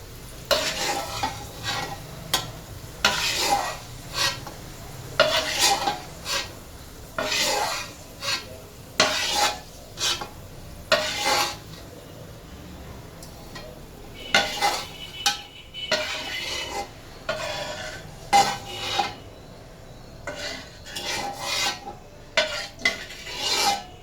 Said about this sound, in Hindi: इसी में हम अपनी इस किशमिश को डाल के भी फ्राई कर लेंगे।